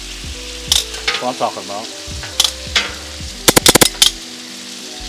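Bacon-wrapped stuffed jalapeno peppers sizzling on a Blackstone griddle, a continuous close crackle with sharp scraping clicks of a spatula, while someone speaks briefly over it.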